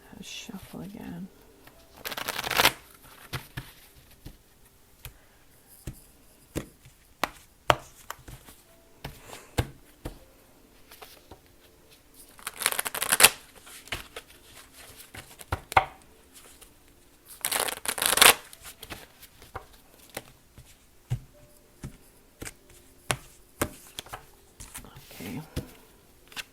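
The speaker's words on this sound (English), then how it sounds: "Shuffle again." Tarot cards are shuffled in several quick riffling bursts spaced apart, with softer taps and handling sounds between them and a voice speaking quietly at times.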